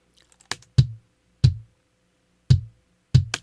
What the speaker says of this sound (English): So that track that has the triggered kick on it, it sounds like this.